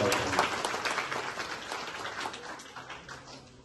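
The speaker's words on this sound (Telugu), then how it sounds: "ఒక్కసారి మనం కృతజ్ఞతా భావంతో చప్పట్లు కొట్టాలని." A crowd claps at a public gathering marking a groundbreaking ceremony for development works, starting fairly loud and gradually thinning over a few seconds.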